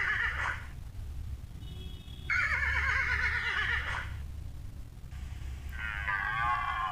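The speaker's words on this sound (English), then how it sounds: "Horse," A horse neighs in three loud whinnies, each a shaky, wavering call of about a second or more, separated by short pauses, close and with no talking.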